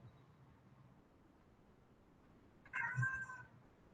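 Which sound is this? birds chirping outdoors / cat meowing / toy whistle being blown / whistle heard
cat meowing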